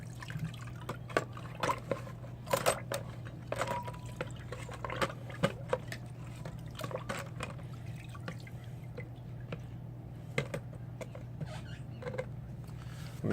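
A dirty GY6 180cc scooter engine top-end part submerged in liquid and scrubbed, producing soft irregular splashes, drips and scratchy scrubbing strokes close by over a low steady hum, with no talk.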